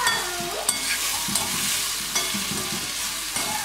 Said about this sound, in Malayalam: ബ്രൗണായി വരുന്ന ഉള്ളി ഇങ്ങനെ വാടി വരുന്നുണ്ട്